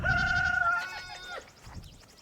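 A goat in a farm pen lets out a loud, close, wavering bleat lasting about a second and a half, followed by quieter rustling and faint movement nearby.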